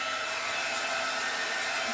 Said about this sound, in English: to keep the heat gun moving so you don't burn the wood